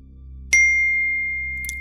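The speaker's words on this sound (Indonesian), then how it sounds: "tiba-tiba HP dia bunyi nih, ting." A mobile phone gives a single bright, clean ding for an incoming SMS, its tone ringing on and slowly fading over a low steady hum.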